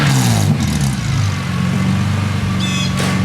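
A BMW E30 with a swapped S54 engine and a brand-new exhaust idles loudly and steadily up close as it warms, a deep rumbling drone with a faint rise in pitch near the end.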